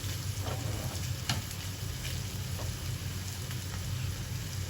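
Egg frying in a pan with minced pork and zucchini gives a steady, close sizzle with light crackling pops throughout, and no one speaks.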